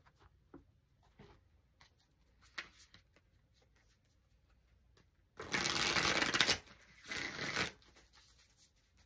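Tarot cards are shuffled close by in two quick riffling bursts, the first about a second long and the second shorter, after a stretch of quiet taps and handling noises.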